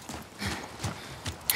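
Horses in The Last of Us Part II, with several distinct hoof clip-clops and soft snorts at a slow walking pace, fairly close and clear over a quiet background.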